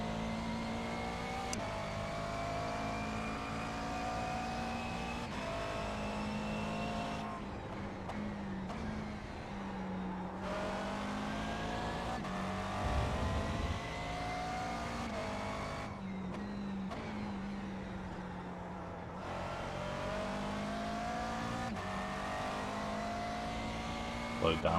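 A race car engine in a racing video game drones and revs steadily throughout, its pitch climbing and dropping with gear changes and throttle lifts, and a few faint tire squeals come through.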